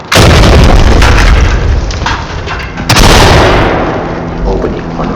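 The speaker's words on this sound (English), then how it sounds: "Deploy C2, then flashbangs." C2 breaching charges detonate in the tactical shooter Ready or Not, two loud booming blasts about three seconds apart, each followed by a rumbling, debris-filled decay.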